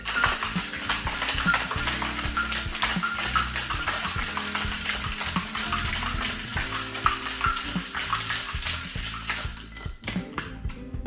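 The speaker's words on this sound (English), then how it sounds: "Add our ice, give it a shake." Ice and vodka rattle inside a cocktail shaker in a rapid, continuous clatter for about ten seconds, close and moderately loud, before the shaking stops.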